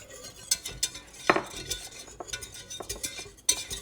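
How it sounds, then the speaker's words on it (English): A whisk stirring beef broth into a roux for alfredo sauce in a pan, quiet irregular clinks and scrapes of metal against the pan with soft liquid swishing, close by. "So you're continuously stirring as you add the beef broth"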